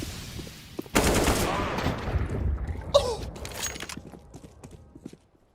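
Gunfire in a Counter-Strike match during a DreamHack Open Summer 2020 broadcast: a sudden burst of rapid shots opens the action, followed by scattered quieter shots and a sharp report, with a commentator talking throughout.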